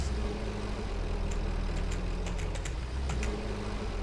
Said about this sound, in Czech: když začnu řídit traktor za tebe